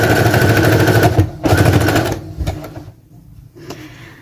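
A sewing machine stitches a French seam along the leg of children's knit shorts, rapid close mechanical chatter in two long runs followed by a few short bursts.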